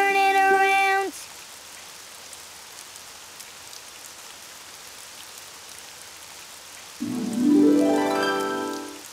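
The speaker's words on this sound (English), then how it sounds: "Oh, it's raining outside." Cartoon rain falling outside, a soft, steady hiss that runs through the whole stretch at low volume, with tonal music at the start and again near the end.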